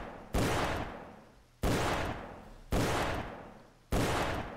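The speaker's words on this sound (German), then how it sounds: "Oh, hier habe ich was Neues. Ein Pepperbox-Revolver." Pepperbox revolver fire in a Call of Duty Civil War mission: four loud, close, evenly spaced shots, each a sharp crack trailing into a long decaying echo, with no talk.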